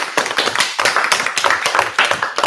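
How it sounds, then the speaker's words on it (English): Lively round of applause from a Maker Faire audience, many hands clapping in a dense, fairly loud, rhythmic burst that continues steadily throughout. "let's give them a round of applause"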